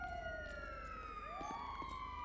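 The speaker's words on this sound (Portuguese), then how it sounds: "Tá chegando mais ambulâncias." An ambulance siren in GTA V wails during a police shootout with a gang of robbers, its pitch sweeping up and down and overlapping with a second siren, fairly distant and steady over a low engine rumble.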